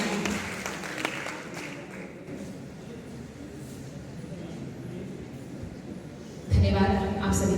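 Audience applause at a college santoor concert, a broad steady wash of clapping through most of the clip that swells louder near the end.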